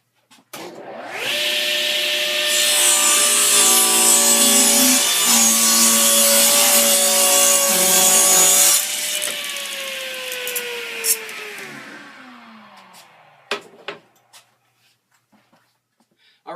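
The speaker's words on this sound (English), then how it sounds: "I'm not going to lower the volume so you can hear exactly what this saw sounds like." A Delta 36-725 table saw rips through wood with no dust vacuum running: a loud, steady high whine under load for several seconds, then the blade spins down slowly while faint knocks and clicks of handling follow.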